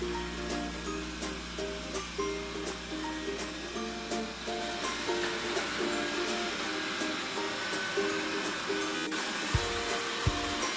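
A Xiaomi Mi robot vacuum cleaner runs with a steady whirring motor hum and brushing noise, holding constant and fairly close with a few faint knocks near the end.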